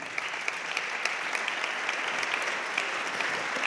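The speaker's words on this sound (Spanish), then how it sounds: "Aplaudan, aplaudan." An audience at a biodiversity talk breaks into steady applause, brisk close clapping filling the short stretch evenly.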